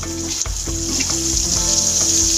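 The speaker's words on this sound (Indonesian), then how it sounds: "Nah, ini kita goreng sampai dia matang dan crispy ya." Shrimp frying in a modest amount of hot oil until crisp gives a loud, steady, close sizzle with faint crackles and a light stirring clink.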